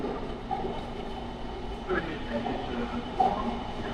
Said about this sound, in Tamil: வந்துச்சு ட்ரெயின்.